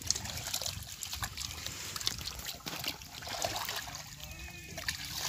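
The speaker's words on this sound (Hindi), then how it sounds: "ताज़ी गाजर, ताज़ी मूली, ये हुण पट के लियाए आ ते धो हो रही है।" Freshly pulled carrots and radishes washed in water in a village setting, with a continuous trickling, splashing flow close by and no speech over it.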